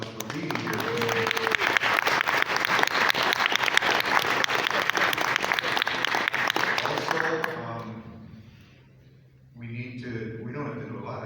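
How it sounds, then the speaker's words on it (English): Audience applause for candidates at a local debate in Royalton, a loud continuous wall of clapping that fades out after about eight seconds, followed by talking. "we need to give the candidates a little round of applause for being here"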